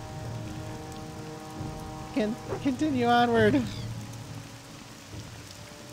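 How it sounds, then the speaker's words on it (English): Steady rain falls in the video game Morrowind, a soft, continuous hiss that runs throughout while a voice speaks briefly in the middle. "It's raining."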